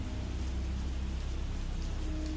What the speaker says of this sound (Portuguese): era apenas o barulho da chuva batendo no carro